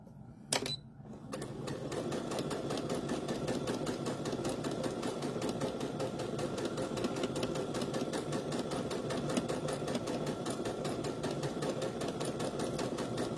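A sewing machine stitches flat lace onto a fabric hem, whirring in a fast, even rhythm for over eleven seconds after a brief click at the start, loud and close.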